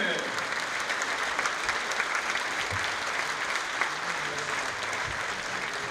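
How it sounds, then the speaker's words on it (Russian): An audience at the opening ceremony of Uzbek culture days in Tatarstan claps steadily and loudly in a theater hall, a sustained wash of applause throughout. "Аплодисменты!"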